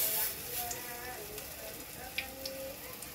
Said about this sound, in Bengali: এখানে আছে আদা, কাঁচা লঙ্কা, কালো জিরা দিয়ে একটা বড়া করা হচ্ছে